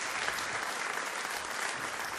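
Applause from a live comedy-show audience, a dense steady patter of many hands clapping that holds evenly for a couple of seconds at moderate distance, with no voices over it.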